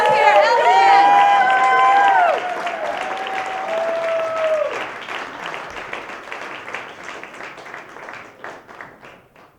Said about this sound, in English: keep that applause going for Ellen Nordberg as she comes up here.